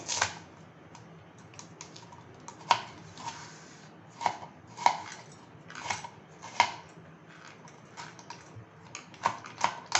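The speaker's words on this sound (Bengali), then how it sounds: "আমি পেঁয়াজটা কুচিয়ে নেব মিহি করে।" A knife finely chops onion on a board, irregular sharp taps in quick clusters with brief pauses, close and fairly quiet, with no voices.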